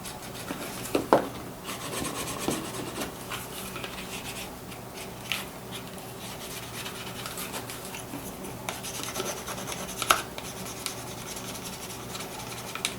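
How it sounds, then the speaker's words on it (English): Close rubbing and rasping as the leather edges of an iPhone belt case are burnished smooth, with repeated back-and-forth friction strokes and a few sharper scrapes, steady and near, no voices. "I'm just doing the final burnishing here on these edges to make them nice and smooth and rounded"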